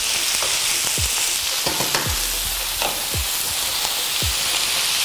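Pork cubes searing in a hot pan, a loud, steady sizzle with occasional thumps and scrapes as the meat is stirred and turned.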